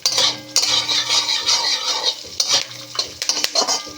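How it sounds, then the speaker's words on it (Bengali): Peanuts, curry leaves and chopped green chillies fry and sizzle in a pan for masala chire, with steady close stirring and scattered spoon-on-pan clinks throughout. "এবার এর মধ্যে আমি কারি পাতা ও কাঁচা লঙ্কা কুচি যোগ করে আবার নাড়তে থাকবো।"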